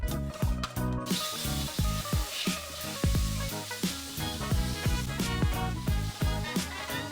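Pork pieces frying in a pan for a Thai pineapple pork dish give off a steady hiss and sizzle, broken by frequent sharp clinks and scrapes of a utensil against the pan, with no talk.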